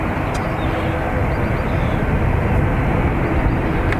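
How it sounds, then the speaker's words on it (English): A Turkish Airlines airliner departing Dublin Airport's north runway, a steady broad jet roar heard from a distance, constant and fairly loud with no talking. "Turkish Airlines off to Istanbul"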